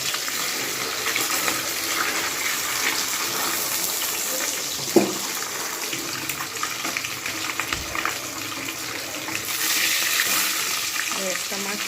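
Pabda fish fry in hot oil in a pan, a steady hiss and sizzle carrying on throughout, with a few soft knocks as the pieces are turned over.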